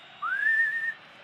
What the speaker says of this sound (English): City fans calling for the final whistle.